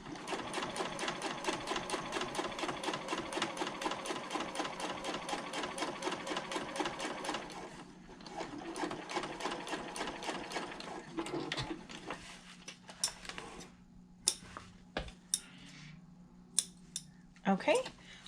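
A sewing machine bastes a zipper onto a handbag liner panel, running in a fast steady chatter for several seconds, then slowing to short bursts with scattered clicks and handling noises.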